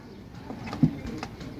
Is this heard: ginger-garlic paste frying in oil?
no